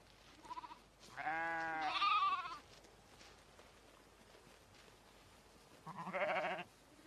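A sheep of a rare breed saved from extinction by conservation breeders bleats twice in an open outdoor setting: one long, wavering call, then a shorter one several seconds later, both fairly faint, with no talking.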